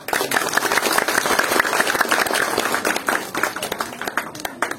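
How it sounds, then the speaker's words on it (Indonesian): An audience at a cultural talk in a village applauds steadily, dense overlapping claps filling the whole stretch, thinning slightly toward the end. "Tepuk tangan untuk ayah saya."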